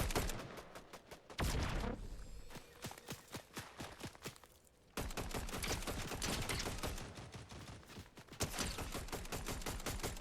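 Video game gunfire in a team shooter match: bursts of rapid shots and single cracks crowd the whole stretch, loud and close, with one brief pause midway.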